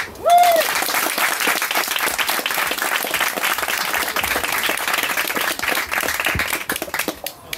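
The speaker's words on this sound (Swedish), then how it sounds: "En stor applåd." Festival crowd applauding a blues band at the Millvalley Blues Festival, a dense, steady wash of clapping that fills the whole stretch and thins slightly near the end.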